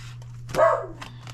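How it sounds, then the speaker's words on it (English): A dog gives one sharp, fairly loud bark nearby indoors, standing out over a steady low electrical hum with a few faint sounds around it. "That was my dog."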